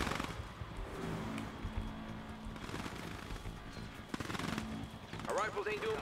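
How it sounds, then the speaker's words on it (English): Bursts of rifle fire rattle from infantry in Command & Conquer 3 Tiberium Wars battling near a building, moderately quiet and mixed with engine rumble and battle noise, with game voices speaking over parts. "Our rifles ain't doing much to that building"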